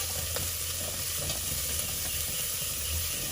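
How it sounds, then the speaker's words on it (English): Sang choy bao filling sizzles and crackles steadily in a hot pan, a close, continuous hiss with small pops and occasional stirring. "I can hear the sizzling,"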